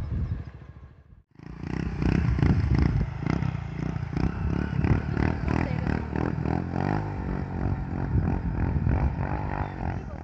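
A motorcycle passes along a road by a dam in Brejo Santo, Ceará, its engine rumble cutting in abruptly after a short pause and staying loud and close for several seconds, with shifting engine tones as it goes by.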